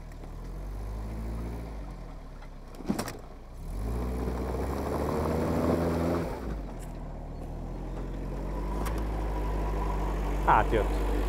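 The Diora 6x6 "Caterpillar" vehicle running with an automatic gearbox, giving a steady low engine drone with a few brief knocks and bumps, and a voice speaking over it.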